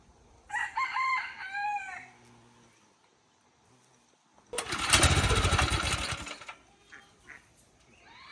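A small lawn mower engine on a homestead, sputtering and struggling, runs in a loud uneven burst for about two seconds among crowing roosters and clucking fowl, then fades and leaves the birds calling.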